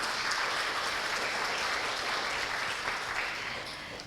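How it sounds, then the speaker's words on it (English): Audience applause at a midwifery lecture event, a dense continuous burst of clapping that tapers off toward the end. "Please give a big applause."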